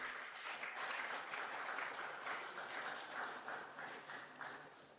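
Conference audience applauding the Sierra Leone delegation at an international gathering: a sustained wash of clapping from a large crowd, faint and distant, steady for the whole stretch.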